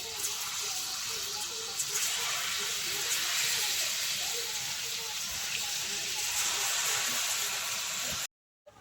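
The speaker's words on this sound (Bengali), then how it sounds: "এবার আমি এটা গ্রেটার দিয়ে এরকম পোলাওটা ভেজে নিই।" Polao rice fries in white oil in a pan, giving a continuous bright sizzle and crackle that stays close and steady before cutting off abruptly near the end.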